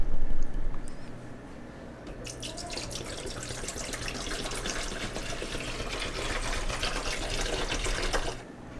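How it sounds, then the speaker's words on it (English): Water adjusted to pH 6.0 pours into an AeroGarden hydroponic unit, a steady trickling and splashing that runs for several seconds, close and moderately loud, then stops abruptly. "And now we just need to pour this into our unit."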